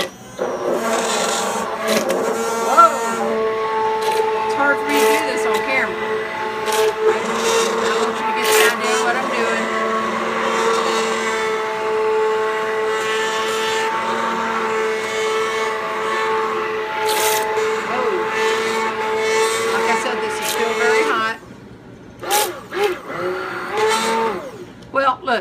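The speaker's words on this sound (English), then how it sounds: "now I'm going to use my immersion blender and we're going to just blend this up" An immersion blender whirs steadily through hot butternut squash soup, loud and continuous for about twenty seconds before cutting out into a few brief bursts.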